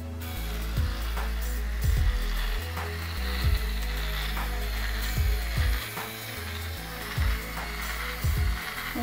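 An InStyler rotating hot iron curls hair with a steady, fairly loud motorised whir, its low hum pulsing and shifting in short bursts as the barrel turns through a section of hair.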